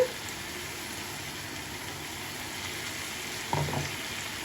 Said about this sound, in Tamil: இப்போ அரைச்சி வச்சிருக்க தக்காளி போட்டுக்கலாம்